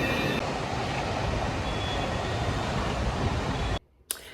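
A loud, steady rumble of a train rolling past close by, filling the air with continuous noise that cuts off abruptly near the end.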